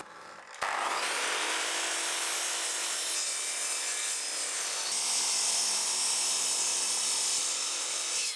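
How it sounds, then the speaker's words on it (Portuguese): A miter saw trims the corners of wood pieces into a triangular shape, starting abruptly with a loud, bright, broadband whine and cutting rasp that holds steady for several seconds, close and alone with no talk. "apararei os cantos com minha serra de esquadria para criar um formato triangular no produto final"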